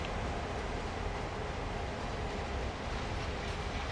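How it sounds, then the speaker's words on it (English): A steady, heavy rumble of locomotives rolling past a switch point in Train Sim World, continuous and loud with a rattling undertone and no voices. "our locomotives are going past the switch point now"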